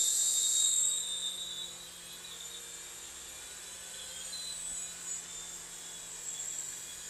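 Eachine Tracker H101 toy helicopter flying, its small rotor whine loud at first, then dropping and staying faint and steady in the background.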